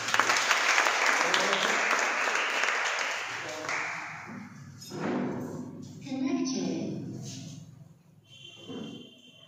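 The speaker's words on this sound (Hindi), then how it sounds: "मैं चाहूंगा ऐसे प्रोडक्ट के लिए एक बार जबरदस्त तालियां।" An audience at a seminar breaks into loud, dense applause that holds steady for several seconds, then thins out and fades in uneven waves, with some voices mixed in.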